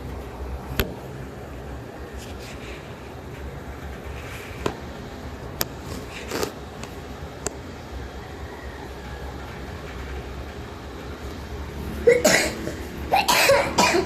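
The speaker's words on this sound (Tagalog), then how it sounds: "Yun, umubo pa." A person coughs on a moving train, with several sharp, brief coughs scattered over a steady rumbling rail background. A cluster of louder clattering sounds comes near the end.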